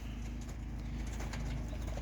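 Young racing pigeons coo softly in a loft, with low murmuring calls running over a steady background hum and no voices.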